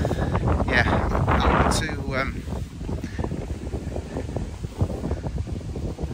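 Strong wind blows outdoors on a walk near a pub at Dunham Massey, buffeting the microphone with a loud, steady rumble while a person talks briefly over it at the start.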